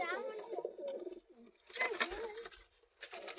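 Pigeons coo in their loft, soft rolling calls close by, with wing flutters and shuffling, and a person speaking over part of it.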